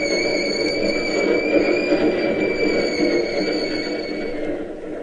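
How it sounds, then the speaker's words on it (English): A Key System electric train rolling down the ramp from the Bay Bridge into the terminal, a steady rumbling roar with high metallic whines held above it, fairly close and continuous, easing slightly toward the end. "do you see what's coming down the ramp from the Bay Bridge right now? Sure, one of the key system trains."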